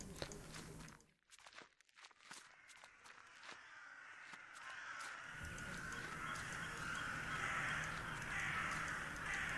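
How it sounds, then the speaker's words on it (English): Crows caw repeatedly in a video game's outdoor scene, several sharp calls over a low rustle, followed by a steady breezy wash of ambience. "Those are birds."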